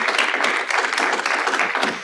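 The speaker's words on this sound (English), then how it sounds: "give a round of applause as a thank you to all of our hard-working service providers" Audience applause at a homelessness forum, a short burst of many hands clapping steadily at moderate loudness before tapering off slightly at the end.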